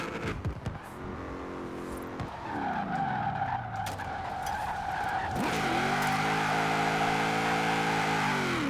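A 1000 HP LS-engined HSV GTSR drift build in Forza Horizon 4 skids through long tire squeals over a loud rising and falling engine roar, continuous and close.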